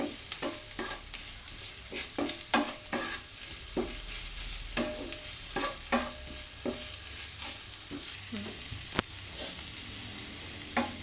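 Onion, garlic, ginger and green chilli fry in a pan after a spoonful of salt goes in. A soft, steady sizzle sits under repeated sharp spatula scrapes and taps at an uneven stirring rhythm, with no talking.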